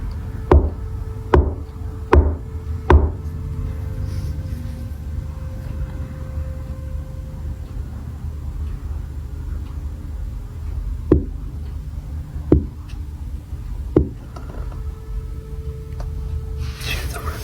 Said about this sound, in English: Do you hear the rhythm in the knock?